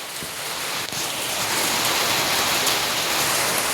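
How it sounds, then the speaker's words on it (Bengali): Light drizzle patters down outdoors in a steady, close, fairly loud hiss of drops that swells slightly after the first second and continues evenly with no talking. "ঝিরিঝিরি বৃষ্টি পড়ছে, দেখতেই পাচ্ছেন।"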